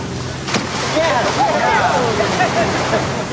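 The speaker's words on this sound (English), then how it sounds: "having the smaller crew boat cruise back and forth offshore, literally making waves" A small crew boat cruises offshore near a beached whale, its engine drone mixed with waves and wind buffeting the microphone, while faint voices come and go over the water.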